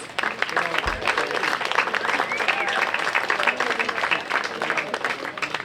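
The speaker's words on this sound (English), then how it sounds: "Let's give them a big round of applause." Crowd applauding at a Union Park Tavern Oktoberfest, steady clapping throughout with voices mixed in, moderately loud and fairly close, filling the whole stretch.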